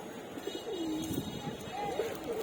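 Pigeons cooing softly in a pigeon loft during moulting season, with a few rising and falling coos over a low, steady background hum.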